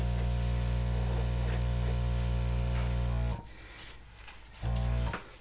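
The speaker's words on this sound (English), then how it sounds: "I just use my airbrush and just touch those little leaves out a little bit." An airbrush sprays air over wet paint on a Dutch pour canvas, a loud steady hiss that cuts off and returns in short bursts near the end.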